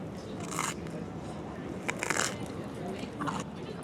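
Crunchy square pizza slice topped with burrata and honey being bitten, three crisp crackling crunches spaced apart, close and fairly loud over a low background murmur.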